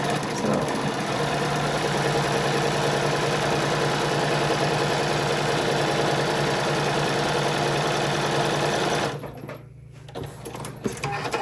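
Steady mechanical hum and rapid stitching of a Gammill longarm quilting machine sewing along a drawn line for stitch-and-flip blocks, running continuously before stopping near the end.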